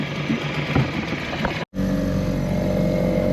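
A small dinghy outboard motor runs steadily under way toward a marina off Madeira, a continuous mid-pitched engine drone with a brief dropout midway before it resumes at the same level.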